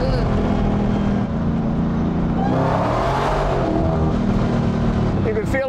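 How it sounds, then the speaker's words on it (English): Supercharger whine from a 2023 Dodge Demon 170 with 1,025 horsepower, a loud, steady engine roar with a rising whine near the middle, running continuously under talk. "Or you hear that supercharger just whine"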